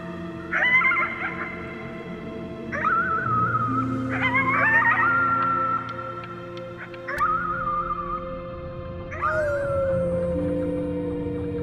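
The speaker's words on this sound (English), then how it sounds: "You howled at the moon, at the top of your lungs." A howl at the moon in the video game Before Your Eyes: five rising, wavering howl calls, each a second or two long, close and fairly loud over a steady low music bed, the last one sliding downward.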